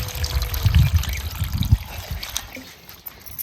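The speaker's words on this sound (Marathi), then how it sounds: "आता दुसऱ्या पाण्याने आपल्याला धुवून घ्यायची" Leafy greens are rinsed a second time in a deep bowl of water, giving close sloshing, trickling and splashing that swells in bursts during the first couple of seconds and then settles into quieter dribbles.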